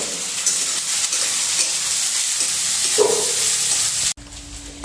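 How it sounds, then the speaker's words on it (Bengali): Chopped chilli, garlic and ginger fry in a pan for an aloo paratha potato filling, with a loud, continuous close-up sizzle and stirring scrapes that stop abruptly just before the end. "রসুনটা কুচি করে রেখেছি সেটাও দিয়ে দিলাম আদাটাও দিয়ে দিলাম নিয়ে এগুলো একটু ভালো করে ভেজে নেবো"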